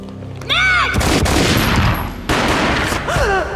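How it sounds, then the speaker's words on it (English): Gunfire in the 2001 PC game Max Payne: a sudden loud boom breaks in at about half a second, and a second blast follows later, both ringing out over dense game sound with brief sweeping tonal effects. "A gunshot boomed and she fell down in slow motion."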